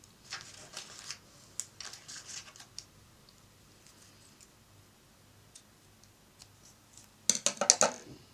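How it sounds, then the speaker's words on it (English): Scissors snip paper word strips from Seven Gypsies in a quiet room, with scattered crisp cuts and rustles early on, a lull, then a louder burst of rapid snipping and paper handling near the end. "And I just cut out different words that I want to use"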